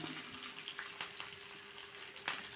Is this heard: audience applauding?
no